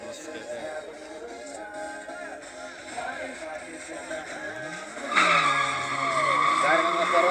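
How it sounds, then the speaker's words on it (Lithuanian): Car 203, a Fiat Coupe drag car, spins its tires at a drag race, giving a sustained screech and engine roar that surges louder partway through, heard at a distance under a commentator's talk. "Kairėje pusėje padangas degina 203 numeris Rimantas Mensleris, Fiat Coupe."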